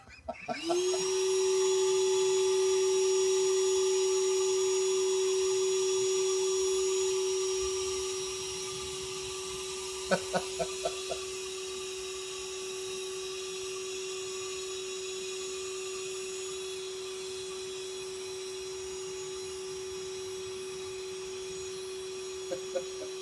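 A vacuum cleaner sucking up honey bees runs steadily with a loud whining drone, then settles slightly lower and continues, with a few brief clicks and taps partway through.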